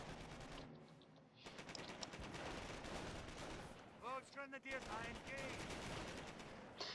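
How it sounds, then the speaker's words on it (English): Mortar blasts and rattling gunfire in the World War II strategy game Company of Heroes, with steady dense bursts of shots and explosions throughout and brief game voices calling out partway through. "But they do have that mortar shooting at me."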